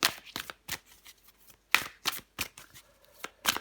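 Tarot cards shuffled and drawn during a reading, heard as a series of crisp, close papery riffles and snaps in short separate bursts with quiet gaps between them and no voices.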